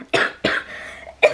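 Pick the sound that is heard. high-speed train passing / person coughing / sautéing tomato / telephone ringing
person coughing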